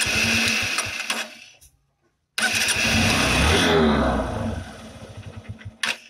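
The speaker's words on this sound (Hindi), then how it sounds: "देखिए मैं आपको बाइक स्टार्ट करूँ" A 2019 Honda Shine SP motorcycle engine sputters and dies during carburetor adjustment, falls silent for a moment, then cranks and catches again, running with a loud, steady mechanical rattle.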